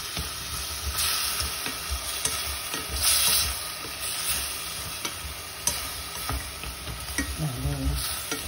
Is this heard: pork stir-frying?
yes